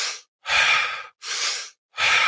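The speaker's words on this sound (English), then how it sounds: "You're breathing faster, deeper," A person demonstrates fast, deep connected breathing, three loud, close breaths in quick succession, each a long airy rush separated by brief silences.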